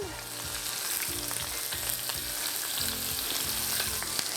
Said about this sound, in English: This is a screaming hot pan. So I'm going to place these seasoned side down